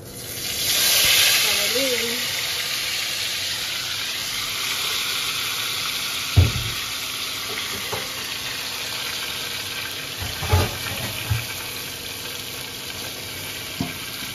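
Hot oil sizzles and hisses steadily in a pan, ready for frying marinated hilsa fish at a home cooking session. There are a few soft clinks and thumps, and a brief voice is heard early on.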